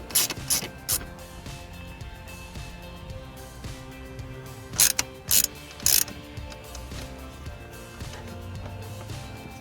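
A ratchet tool clicks while undoing hex bolts on the metal shield of a 2014 Ford Fiesta ST, giving close, steady mechanical ticking with a few louder clunks partway through.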